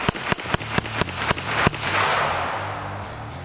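A Hi Point gun fires a rapid string of about eight sharp shots outdoors. Each crack is close and loud, and a rushing roar lingers after the last one.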